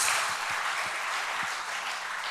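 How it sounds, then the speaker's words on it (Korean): Church congregation applauding the choir and members' groups during a Sunday afternoon service, a continuous even rush of clapping hands with a few low thumps scattered beneath it. "우리 찬양대원들과 우리 3, 4 유전도회들을 위해서 위로의 박수를 한번 쳐드리도록 하겠습니다"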